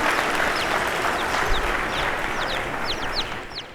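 Dense audience applause fills a civic State of the City event in Garden Grove, loud and steady throughout with a few thin whistles or cheers cutting through near the end.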